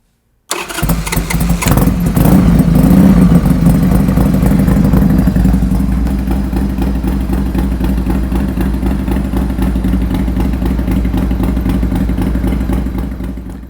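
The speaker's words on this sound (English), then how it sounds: "let's fire up this bike, let's hear the new exhaust to make sure everything's working and running properly" A Harley-Davidson Sportster cafe racer fitted with a new exhaust barks to life and settles into a loud, steady, lumpy idle close by, with a rumbling low end that holds for over ten seconds.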